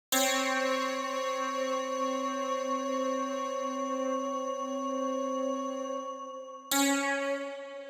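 A dissonant two-note chord with one note shifted up an octave rings out and slowly decays, then is struck again near the end, sounding clear and close with no other sounds.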